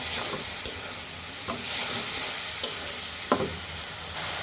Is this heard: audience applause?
no